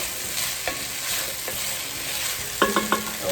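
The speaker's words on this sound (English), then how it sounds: "Give that a good stir." Spices being stirred into potatoes and onions frying in a pan for a potato and bean chowder, a steady sizzle with a few sharp utensil scrapes and clinks near the end, close and alone without talk.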